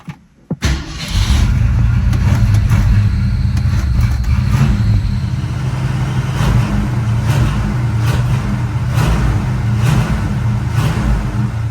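An old car engine starts with a short cough, then catches and settles into a steady, loud, rumbling idle as the car is pulled out of a garage. The engine runs alone without talk.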